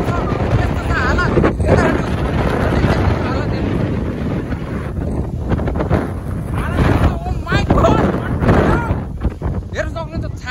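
Strong wind roars across Phewa Lake in Pokhara, buffeting the microphone in heavy continuous gusts while waves churn, and people talk throughout beneath the blustery noise.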